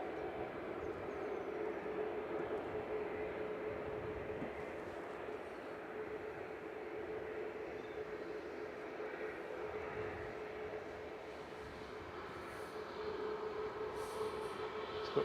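A noisy propeller aircraft departs from Manchester Airport, producing a steady droning roar with a constant engine tone that holds throughout at moderate distance.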